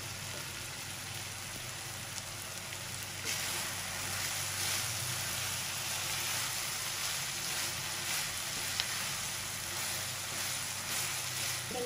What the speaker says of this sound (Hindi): मसाले के साथ कीमा पकते हुए